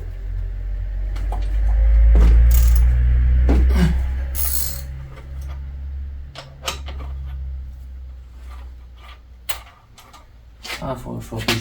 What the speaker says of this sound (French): faut que je prenne plutôt un cliquet